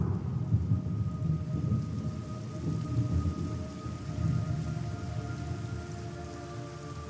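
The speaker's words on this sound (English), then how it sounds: "It's raining blood." Heavy rain and thunder from the video game Metal Gear Solid Delta: Snake Eater, steady rainfall hissing on surfaces over low rolling thunder rumbles, with no voices.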